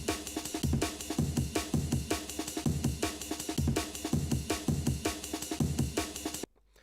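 Rearranged drum break slices from an Ableton drum rack loop in a tight, fast breakbeat, punchy kicks and snares with busy hats repeating evenly at steady volume before stopping abruptly near the end, no voices.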